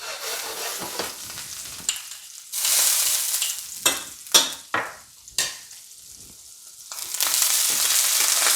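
Green beans sizzle and fry in a hot pan on a high burner, with bursts of louder crackling, sharp clatters and stirring scrapes interrupting a steady hiss.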